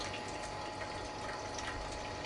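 Steady, even rush of warm water pushed by a pump through brewing gear, running fast and continuous at moderate level with no voices.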